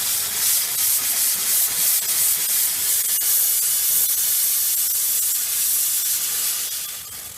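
Vapor Clean Desiderio Plus steam cleaner blasting steam in a steady, loud, broadband hiss that holds evenly for several seconds and tapers slightly at the end, with no talking.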